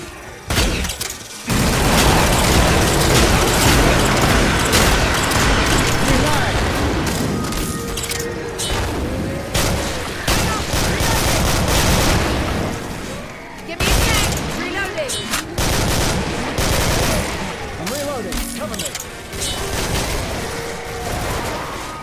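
Loud, continuous rocket explosions and rapid gunfire crash through a firefight in Killing Floor, booming blasts piling onto volleys of shots, with shouting voices heard amid the chaos.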